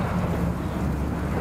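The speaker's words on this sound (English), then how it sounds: "Really windy out here today" Low, rumbling wind buffeting the microphone outdoors at a boat ramp, a constant blustery roar with no talk.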